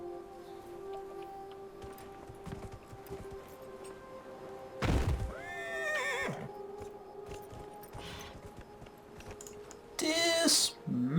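In Dragon Age Inquisition, in a desert area called the Hissing Waste, a mounted horse gives two loud whinnies about five seconds apart over steady clip-clop hooves and low game ambience.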